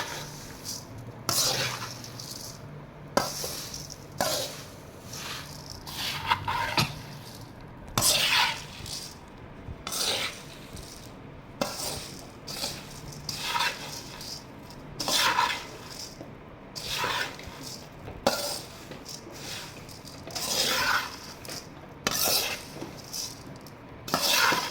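Puffed rice snack (borugula chuduva) being mixed in a bowl, with repeated scraping and rustling strokes in an uneven rhythm, up close and moderately loud throughout, with no speech.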